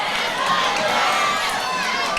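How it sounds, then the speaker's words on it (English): A packed crowd at a sold-out boxing club night cheers and shouts continuously, a dense, loud wall of voices with no single speaker standing out. "Crowd really get behind both boxers."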